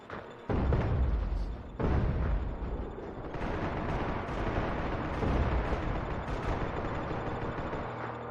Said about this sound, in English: There's a lot of nades going off